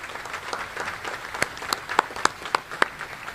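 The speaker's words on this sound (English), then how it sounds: "let's please give them a round of applause." Audience applause at a U.S. Army Contracting Corps change-of-command ceremony, a steady patter of clapping with several sharper, louder claps standing out near the end.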